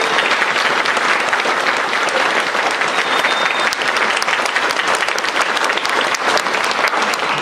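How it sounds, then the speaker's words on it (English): A crowd at a proclamation re-enactment event bursts into loud, continuous applause for the organizing committee, dense clapping that stays strong throughout. "a huge round of applause to you"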